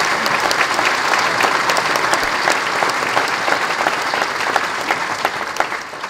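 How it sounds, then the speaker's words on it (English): An audience at a Colorado state officials' investiture ceremony gives the new Secretary of State a round of applause, a loud, dense and sustained clapping that continues evenly throughout and fades slightly at the end. "if you will give her a round of applause."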